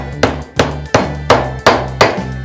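Six sharp, evenly spaced hammer blows knock a metal ring down onto the top of a wooden chisel handle in a woodworking shop, each strike close, loud and ringing briefly before the next.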